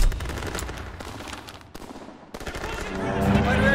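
Rapid machine-gun fire from a fighter aircraft strafing run in Call of Duty: WWII, a dense continuous rattle with brief gaps, building louder toward the end amid battle noise.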